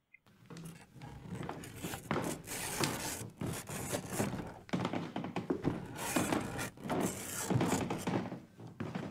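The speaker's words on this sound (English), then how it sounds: "Go answer the scratches, Jimmy, but play it cool." Scratching at a door for an audio drama sound effect: a continuous series of rough scrapes, rubs and wooden thunks that keep coming at an irregular pace, close and fairly quiet.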